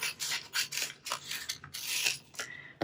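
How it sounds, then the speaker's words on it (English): Scissors snip through a paper pocket edge in a run of close, crisp cuts and rasps, about a dozen irregular strokes with short pauses between them and no talking. "I'm going to trim this off."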